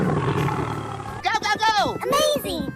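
A cartoon-style tiger roar, loud and close, with drawn-out growling calls over a second and a half, followed by playful animated effects.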